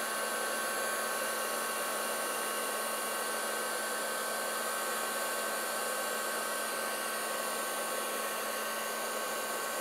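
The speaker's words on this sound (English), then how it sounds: "It just takes a second for the heat tool to warm up and melt the powder." A craft heat tool blows a steady, loud hum and airy whoosh while melting embossing powder, constant throughout with a faint tonal whine and no talk.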